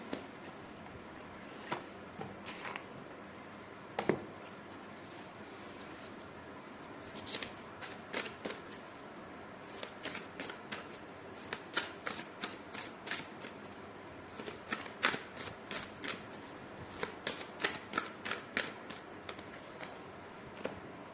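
Oracle cards being shuffled by hand, soft riffling and flicking bursts that start sparse and grow into a quick, rhythmic run of shuffles, close and quiet with no talking.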